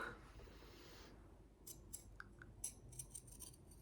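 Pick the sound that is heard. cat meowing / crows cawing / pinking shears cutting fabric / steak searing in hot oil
pinking shears cutting fabric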